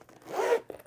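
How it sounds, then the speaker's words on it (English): A zipper pull drawn along a small heart-shaped zipper pouch, one smooth rasping zip lasting about half a second, close and clear, followed by a brief faint rustle. "a little heart-shaped zipper pull"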